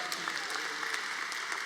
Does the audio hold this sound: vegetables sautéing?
no